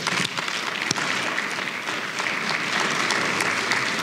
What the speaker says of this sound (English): Let's give a round of applause for the whole panel.